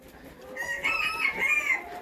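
Chickens being let out of a coop into the sun on a small farm, with a few clucks and a rooster-like call rising in the middle, close by and moderately loud, with no talk.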